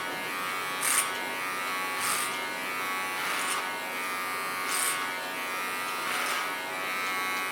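An electric hair clipper buzzes steadily through strong hair, with a few brief sharper bursts where the blades bite, close by and with no talking.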